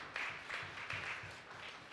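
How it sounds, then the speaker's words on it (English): Faint, soft applause from a small congregation at a wedding vow renewal ceremony, a couple of seconds of steady, distant clapping. "I think that deserves a round of applause, don't you?"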